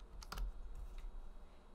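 A few quick keystrokes on a computer keyboard enter a zip code in dental office insurance software, faint soft clicks over a low hum.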